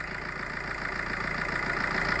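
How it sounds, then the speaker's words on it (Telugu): A vehicle's engine, with its original front bonnet, idles smoothly in an even, unbroken hum that holds close and steady throughout. "ఇది వెహికల్ ఇంజిన్ సెక్షన్ అయితే చాలా స్మూత్ రన్నింగ్లో ఉంది"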